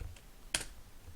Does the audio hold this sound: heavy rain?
no